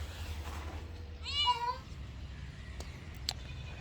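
A cat meows once in a village in rural Punjab, Pakistan, a short rising and falling call that stands out over a low steady hum, followed by faint scattered clicks.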